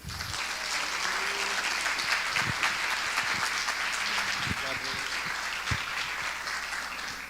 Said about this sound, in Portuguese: Então eu queria que você recebesse com uma salva de palmas o pastor Davi Lago.